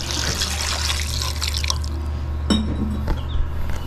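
Water poured from a pot or container onto soaked tamarind in a cooking pot, a steady wet splashing and trickling heard up close with no talking over it.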